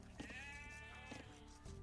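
Sheep bleat in an Age of Empires match, a wavering, drawn-out animal cry with a second short bleat near the end, heard alone over the game's steady background sound.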